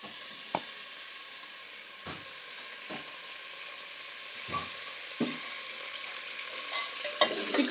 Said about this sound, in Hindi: चिकन को हम अच्छी तरह से फ्राई कर लेंगे।